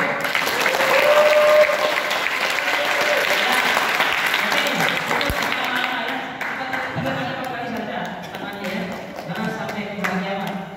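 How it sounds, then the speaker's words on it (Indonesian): An audience at an Islamic boarding school student debate claps loudly and continuously for the pro team, a dense, sustained burst of applause that fades slightly toward the end, with some voices underneath. "Aplaus untuk kelompok pro."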